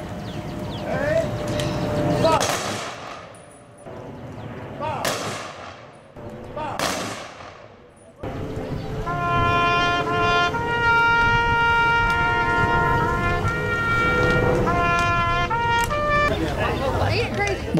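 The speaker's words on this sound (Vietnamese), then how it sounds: "bắn súng và thổi kèn truy điệu." Rifle volley salute at a Memorial Day ceremony at Veterans Park in Fort Mill, South Carolina: three loud, evenly spaced cracks outdoors, followed by a sustained bugle call playing alone.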